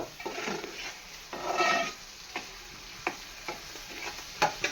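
A spoon scrapes and stirs curry frying in a pan, over a steady low sizzle, with soft scraping strokes and a few sharp taps on the pan's rim, close by and without talk.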